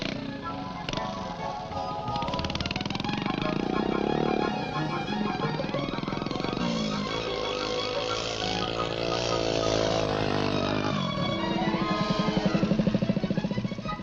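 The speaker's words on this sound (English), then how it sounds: "Here he is after riding for only 4 months on a miniature 50cc scrambling bike built by his father" A miniature 50cc scrambling motorbike with three gears, built by a mechanic father, is ridden hard. Its engine revs loudly and continuously, the pitch sweeping up and down with gear changes and throttle.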